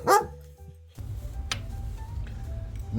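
A dog lets out a single loud, close bark inside a garage with a 1947 Ford Deluxe, followed by a low hum, a sharp metallic tick and faint workshop clatter.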